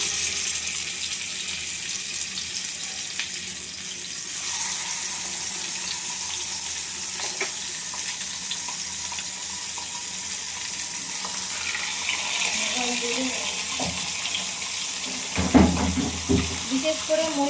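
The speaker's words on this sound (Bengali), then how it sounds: "এভাবে মাছগুলোকে হালকা হালকা করে ভেজে নেব" Catla fish pieces fry lightly in a pan over a gas flame, giving a steady broadband sizzle. Some clattering from the pan or utensils breaks in toward the end.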